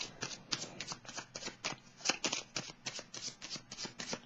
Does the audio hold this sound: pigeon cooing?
no